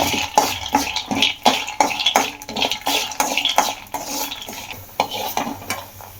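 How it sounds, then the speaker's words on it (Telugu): Peanuts tossed and stirred in a metal kadai, with repeated scraping and clinking of a spoon against the pan in an uneven rhythm about twice a second, close and clear over a faint sizzle. "అదే కడాయిలో పల్లీలు వేస్తున్నానండి. ఇవి కూడా కొంచెం వేయించుకోవాలి."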